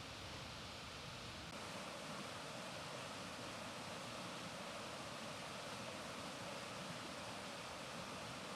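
Upper Chesting Creek flowing steadily beside an Appalachian Trail campsite near Smokemont, a dense, even rush of water that holds at constant loudness throughout with no voices.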